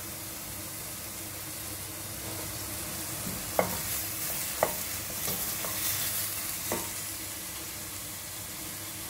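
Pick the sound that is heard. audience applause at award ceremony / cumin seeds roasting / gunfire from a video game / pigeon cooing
cumin seeds roasting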